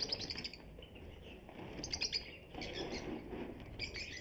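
Colour lovebird breeder pairs chirp in a busy flurry of short, high tweets, with bursts clustered near the start, middle and end and a steady background of other birds.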